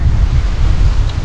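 Sea surf rolls in at a beach near Alibaug as a brief, loud, steady wash, heavily mixed with wind buffeting against the microphone, with no voices present.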